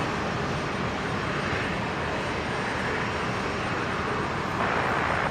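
A Qantas Link Airbus A220 arriving on runway 01 right at Brisbane airport, heard as a loud, steady, broadband jet roar that holds level throughout and swells slightly near the end, with no talk.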